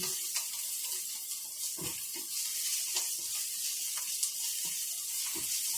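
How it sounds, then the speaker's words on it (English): Onions sauté in a pan for a jerk pork stew, with a steady bright sizzle and intermittent scraping clicks from stirring, close and continuous, and no talk. "So I'm just going to continue stirring until it is where I would like it to be."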